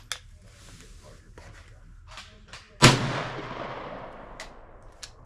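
A 20 gauge shotgun fires once at steel plates outdoors, a single sharp loud blast with a long fading echo, set among quieter faint clicks and rustling before and after.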